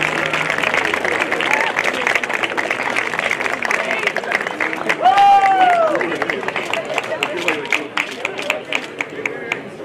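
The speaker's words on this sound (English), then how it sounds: "Please give a round of applause for Gurpreet Sandhu" Applause from an audience at a high school semester awards ceremony, a steady patter of many hands with crowd murmur, a brief whoop rising above it midway.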